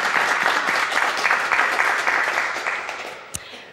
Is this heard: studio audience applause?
yes